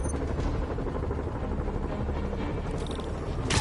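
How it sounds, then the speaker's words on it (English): A helicopter in Marvel's Spider-Man on PS5: rotor thumps and drones in a constant, loud roar, with a sharper burst of noise near the end. "Bet I can use those helicopters to swing."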